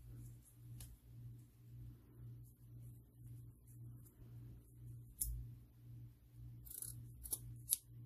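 Scissors snipping deco mesh, a few faint crisp cuts clustered near the end over a steady low electrical hum, with no talk.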